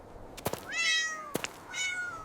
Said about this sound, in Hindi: वह गड्ढे में गिर गई थी और डर के मारे म्याऊं म्याऊं कर रही थी